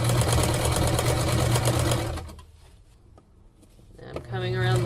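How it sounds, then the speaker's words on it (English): A sewing machine runs a seam at a loud, steady pace, pauses for about two seconds, then starts up again. A person talks over the stitching. "When you're sewing, you don't want to watch your needle going up and down."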